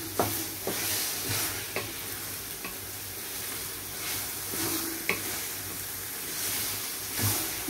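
Beef sautéing with tomatoes in a pan gives a soft, steady sizzle, broken by several spatula stirs and scrapes at irregular intervals, heard close up with no one talking.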